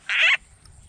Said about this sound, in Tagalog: tunog ng palaka